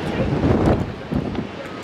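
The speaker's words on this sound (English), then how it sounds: "And it's so windy." Strong coastal gusts at the Twelve Apostles, Victoria, Australia, buffet the microphone with low rumbling roar, surf-like noise behind, loud and close, no clear talk.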